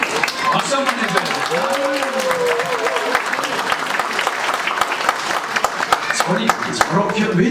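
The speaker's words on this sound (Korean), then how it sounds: "박수 한번 해줘요" A church congregation at a Christmas Sunday service claps in a steady, moderately loud round of applause, while a voice speaks over it.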